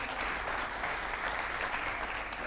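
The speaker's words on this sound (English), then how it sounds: "Let's give him a big round of applause." Sustained, even applause from a trading conference audience, a dense crowd of clapping hands at a steady level throughout.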